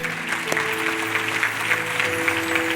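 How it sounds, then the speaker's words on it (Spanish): A church congregation claps continuously and fairly loudly, a sustained wash of hand claps over a low steady tone. "Dale un aplauso fuerte."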